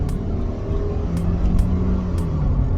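A 2015 Ford Focus SE with a 2.0 engine and automatic transmission accelerates with a steady low engine drone and a faint rising whir, with a few soft clicks over the continuous rumble.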